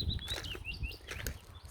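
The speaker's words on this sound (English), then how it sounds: "So peaceful, you can hear the birds chirping." Small birds chirp and tweet in a peaceful cottage garden, several short bright calls scattered over quiet background, fairly faint and distant.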